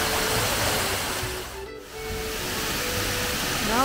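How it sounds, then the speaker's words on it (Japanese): Otome Falls, a waterfall in Nagano, roars with heavy water spray as a steady, loud broadband rush that fills the whole clip, close by and unbroken apart from a brief dip midway. "すごい水が、水しぶきがすごいよ。"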